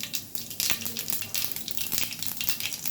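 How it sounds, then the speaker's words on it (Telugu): Whole spices dropped into hot oil in a kadai, a bright crackling sizzle with bursts of popping, close and fairly loud, steady for a few seconds without speech. "ఆయిల్ హీట్ ఎక్కాక ఒక దినుసులు వేసుకుంటున్నాను."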